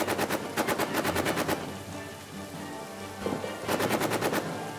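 Machine gun fire from the video game All Quiet in the Trenches, two rapid bursts of evenly spaced shots at the start and end with a rumbling lull between them, loud and close.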